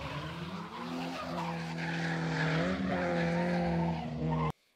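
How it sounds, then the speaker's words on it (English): A car's tires screech through a 180-degree drift around a corner, a sustained, wavering squeal over engine rumble that cuts off abruptly near the end. "a scene where Dominic Toretto performs a 180-degree drift around a corner"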